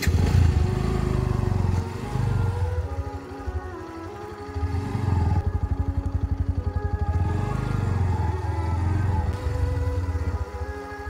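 A motorcycle engine idles and revs close by, with a steady putter that dips briefly and then picks up again as the bike turns around and pulls away.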